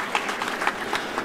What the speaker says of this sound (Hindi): ताली बजा के उनका भी स्वागत किया जाए